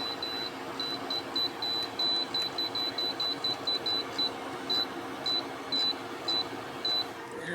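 A kitchen timer is set with a series of short, high electronic beeps, rapid at first and then spaced out, close and clear over a steady background hiss.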